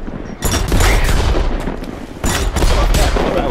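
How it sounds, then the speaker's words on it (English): Rapid bursts of automatic weapon fire in the Worms video game, two dense loud volleys of several shots each, with booming impacts filling the gaps. "When you go to shoot it, just press X once, and then it'll automatically fire whatever, however many shots, six or something."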